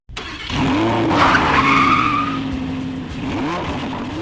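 A race car skids away with a loud, sustained tire screech over a roaring engine, holding strong for several seconds before easing slightly as it continues.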